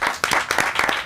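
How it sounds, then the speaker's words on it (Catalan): Short burst of audience clapping, a quick patter of hands from a small group, close and fairly loud, lasting about a second. "Fort aplaudiment per Àlex Luna, que ha repartit les ampolles."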